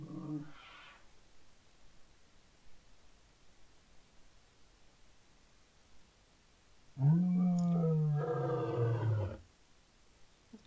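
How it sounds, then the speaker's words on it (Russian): In the Animalia Survival video game, a lion lets out one long, loud roar after several seconds of faint background noise, with a brief quieter growl at the very start. "Да, сзади лев бежит. Сзади лев бежит."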